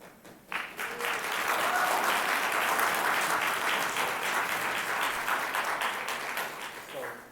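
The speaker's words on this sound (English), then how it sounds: "we appreciate the applause" Audience applause breaks out in a city council chamber after a unanimous vote, a dense, steady wash of clapping that swells quickly and holds for several seconds before easing slightly.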